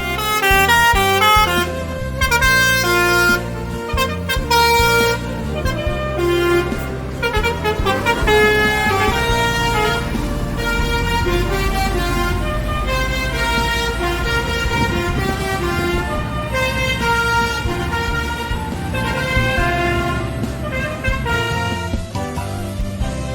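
Buses pulling out of an Indonesian bus terminal, sounding loud musical multi-tone air horns over and over for a long stretch, with engines rumbling beneath the honking.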